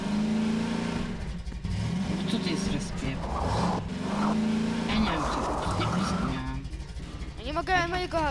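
Car engine revving and droning steadily while driving in Garry's Mod, a mid-pitched motor rising and falling throughout, with someone talking over it and a brief whine near the end.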